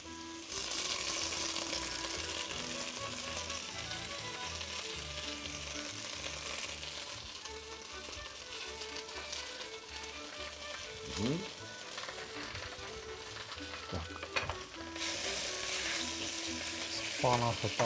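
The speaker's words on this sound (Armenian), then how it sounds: "Սպանախը տապակի վրա արագ" Spinach sizzles and fries in a hot pan, a dense steady crackle throughout with occasional stirring and clinks from utensils.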